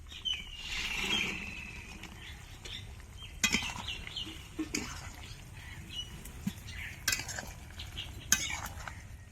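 Fried soybean chunks stirred in a cooking pot for a vegetarian dish, heard as faint, scattered clinks and scrapes of a utensil against the pot over a quiet background.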